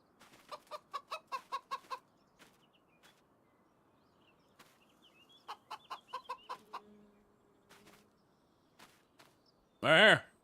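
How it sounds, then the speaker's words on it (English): Chickens in a farm field cluck in quick rhythmic bursts of short calls, a run of six or so, a pause, then another run, ending in a louder, nearer squawk. "There's chickens in this field too."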